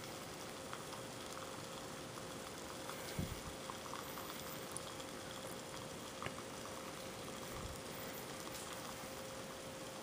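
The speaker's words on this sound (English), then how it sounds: "And it's still doing its nice boil." Water in a pot over an alcohol stove made from a tartar sauce holder keeps up a steady, dense bubbling hiss, faint and constant throughout with a couple of soft knocks.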